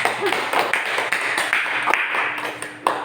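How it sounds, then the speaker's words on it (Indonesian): A school class clapping for their classmate Rosa during a physics lesson on Bernoulli's principle, a short round of fairly close, uneven clapping with distinct individual claps standing out. "Beri tepuk tangan untuk teman kita."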